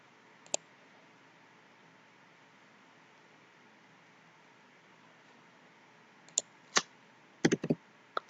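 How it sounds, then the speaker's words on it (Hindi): Computer mouse clicking on a PC: a single click early, then a quick cluster of sharp clicks near the end over faint background hum. "और क्लिक करते हैं।"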